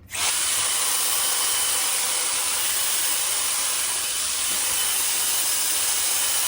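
Shark FlexFusion air straightener blowing air through hair, heard as a steady, loud, close rushing whoosh of airflow running continuously without a break.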